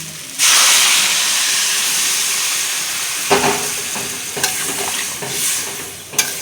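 Water is poured into a hot pan of spiced radish and bata fish vegetable curry. It bursts into a loud, sudden hiss of steam that settles into a steady sizzle, broken by occasional clinks and stirring knocks.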